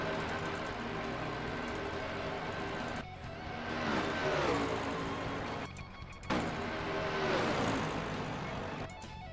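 Loud race car engine in the Assetto Corsa racing game, droning steadily with rising and falling revs through two gear-shift sweeps, close and continuous with no talking.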